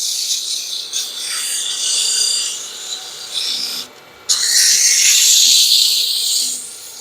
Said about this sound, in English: allow the lathe and sandpaper to do the cutting.